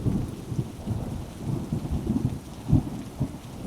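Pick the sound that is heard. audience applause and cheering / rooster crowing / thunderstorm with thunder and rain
thunderstorm with thunder and rain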